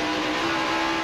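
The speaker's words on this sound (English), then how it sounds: "Those cars go by Bill Elliott." NASCAR Winston Cup race cars roar past during the 2001 Sharpie 500. The engine drone is loud, dense and unbroken across a brief moment.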